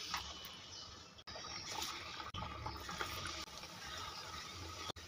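Rice-flour jhal pitha slipped into well-heated oil and frying, a steady dense bubbling hiss close by that holds throughout with a few brief dropouts.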